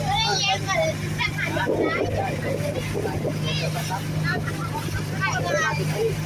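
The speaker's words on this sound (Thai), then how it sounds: "เรือขี่เรือเด้อพี่น้องเด้อ" Steady drone of a motorboat engine under wind noise on the way by boat to the That Phanom festival in Nakhon Phanom, with someone talking over it throughout.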